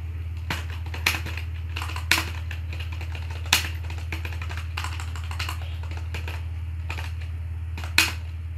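Keys clacking on a computer keyboard while writing in MS Word, a run of light taps with a few sharper louder strokes, close up over a steady low electrical hum, no voices.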